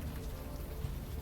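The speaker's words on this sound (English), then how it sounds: "Still raining." Steady rain falls in the night-time city setting of the video game Unavowed, a dense, even patter of drops on a surface with low rumble, continuous and moderately quiet.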